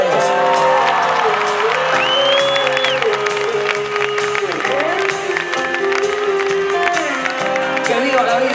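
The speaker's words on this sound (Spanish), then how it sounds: "Un aplauso para ellos." A concert crowd cheering and applauding after a dedication to the people of Lorca, Murcia, loud and sustained with whoops and shouts, while a voice carries over the roar.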